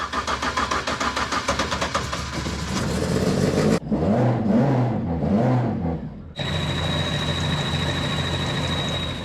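A Ford Escort Mk1 fitted with an ST170 engine runs with a steady close rumble, drops to a lower wavering throb, then picks back up to a sustained high-revving drone, no talking.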